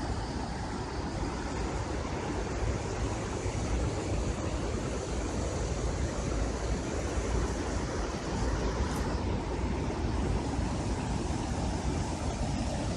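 Water rushes over the Hamilton Dam on the Rabbit River in Hamilton, Michigan, a steady wide hiss and roar that holds constant without breaks and is heard at a moderate distance.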